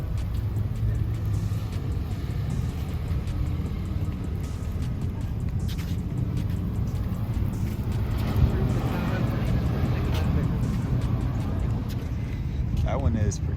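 Low, steady rumble of a Hellcat muscle car engine pulling out at a busy muscle car show, the Street Machine Nationals, mixed with constant crowd and background noise for the whole stretch.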